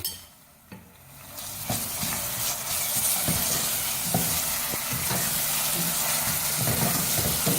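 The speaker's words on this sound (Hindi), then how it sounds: "अब इसको भी साथ फ्राई करेंगे।" Garlic ginger paste frying with golden-browned onions for masala mutton, starting with a quiet clatter before a loud, steady hiss and sizzle takes over, dotted with stirring scrapes.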